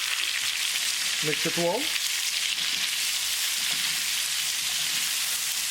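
Cauliflower sizzles in oil and masala over high heat, a loud, steady frying hiss that runs throughout, with a brief spoken instruction over it.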